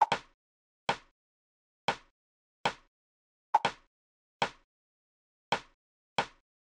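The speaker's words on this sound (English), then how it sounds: "So the next thing we have here are these rim shots" Eight crisp, dry rim shot drum hits in a future garage beat, sharp isolated clicks in an uneven, syncopated pattern with silence between them and two hits landing close together near the middle.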